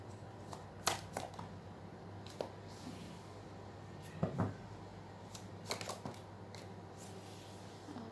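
Tarot cards being drawn and handled at close range in a quiet room, with soft irregular flicks and shuffles, a few sharper snaps of card against card, and brief pauses between them.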